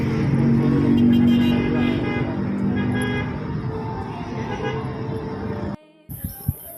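Dense road traffic at a busy four-way intersection, a steady roar of cars and motorbikes with occasional horn toots, loud and close, cutting out briefly near the end before traffic noise resumes.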